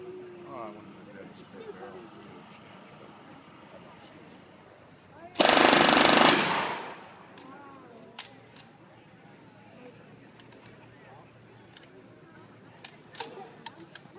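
A WW2 machine gun fires at a D-Day reenactment: one loud, sharp burst of about a second, set against quieter outdoor ambience with people talking before and after.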